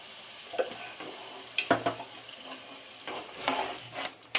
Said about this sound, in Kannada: ಇದು ಚೆನ್ನಾಗಿ ನೀಟಾಗಿ ಫ್ರೈ ಮಾಡ್ಕೊಬೇಕು ಹಸಿ ವಾಸನೆ ಹೋಗೋವರೆಗೂ ಕರಿದು